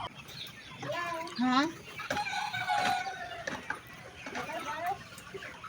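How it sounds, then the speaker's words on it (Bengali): Chickens on a poultry farm in Bogura, Bangladesh, give clucks and squawks that rise and fall throughout, close by, under near-constant conversation. "মুরগিগুলো ভয়ের ঠেলায় ওইদিকে চলে যাচ্ছে।"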